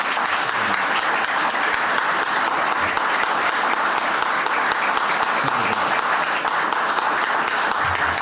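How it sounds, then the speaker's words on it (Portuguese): Sustained applause from the audience at a Brazilian academic session honoring Caio Boschi on the 80th anniversary of 'Raízes do Brasil', steady dense clapping filling the whole stretch at even loudness. "pedindo uma salva de palmas para Caio Boschi."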